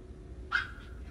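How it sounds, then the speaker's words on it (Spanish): Small female dogs fighting, a brief sharp yelp or whimper rising out of a quiet room with a low steady hum, one short cry that trails off. "Están peleándose las perritas"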